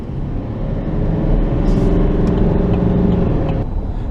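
A 2016 Chevrolet Silverado HD with a Duramax diesel, hauling about 6,000 pounds in the bed, accelerates hard, its deep engine rumble swelling loud and steady before easing off near the end.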